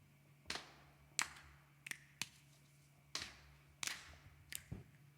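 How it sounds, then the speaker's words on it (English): Body percussion during a worship service: a sequence of sharp, separate lap taps, swiping claps and finger snaps in a loose rhythm, about eight distinct hits over five seconds in a quiet room. "So there's like a tap on your lap, a little like swipe clap,"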